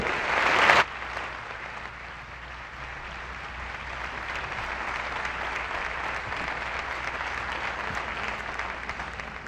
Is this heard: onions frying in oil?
no